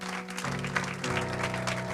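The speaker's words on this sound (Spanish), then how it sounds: "Denle un aplauso al Señor" Congregation applauding in a church after a sermon, a broad steady wash of clapping with faint organ or keyboard chords sustained underneath.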